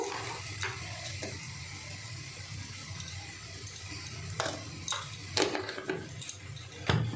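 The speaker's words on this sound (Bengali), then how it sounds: "এবার মিশিয়ে নেব" A spoon stirs cumin and turmeric into a papaya mixture in a pan, making soft scraping and light clinks over a low sizzling background, with a few sharper utensil taps.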